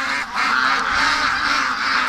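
A duck gives a continuous nasal honking call up close, one sustained raspy stretch with slight pulses and no talking over it.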